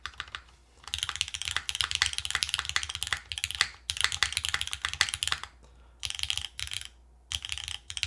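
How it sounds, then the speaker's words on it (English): Typing on a Sonoma mechanical keyboard fitted with Calligraphy switches, including sharp spacebar presses: close, rapid clacky keystrokes in bursts with short pauses between them. "Ooh, it's a very sharp spacebar though."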